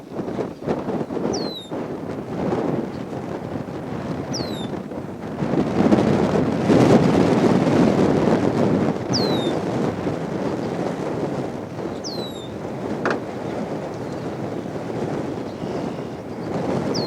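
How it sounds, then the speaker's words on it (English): Wind whips across an open lake in a steady, roaring rush, with gusts swelling midway and faint water movement beneath, no voices. "out on the main lake, the wind is really whipping."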